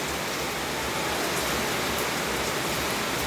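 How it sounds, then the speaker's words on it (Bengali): Heavy rain pours down in a dense, steady hiss that stays loud and even the whole time, with no voices over it. "প্রচণ্ড বৃষ্টি হচ্ছে আমাদের এখানে"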